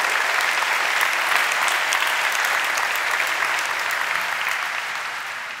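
A studio audience at a celebrity talk show applauds Matthias, a dense, steady wash of many hands clapping close and loud for several seconds, tapering slightly at the end with no voices over it.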